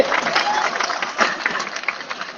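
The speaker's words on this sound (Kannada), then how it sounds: "ಜೋರಾದ ಚಪ್ಪಾಳೆ ಧನ್ಯವಾದ ಸಲ್ಲಿಸ್ರಿ" Enthusiastic applause from an audience at a Kannada teachers' and farmers' gathering, a dense, steady wash of clapping lasting a couple of seconds with crowd noise mixed in.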